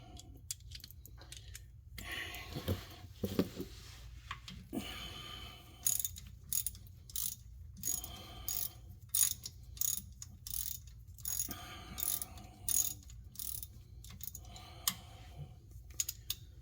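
Ratchet wrench clicking in bursts while an axle bearing and seal are replaced on a vehicle called Blue Thunder, with irregular bursts of sharp mechanical clicks and ratcheting over a steady low hum, no talking.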